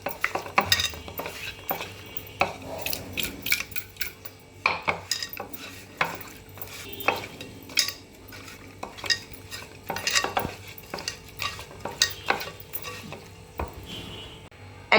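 Fish pieces being mixed by hand or spoon with salt, chili and turmeric powder in a metal bowl, giving steady soft stirring and scraping with frequent light clinks of utensils against the dish, close and moderately quiet, with no talking.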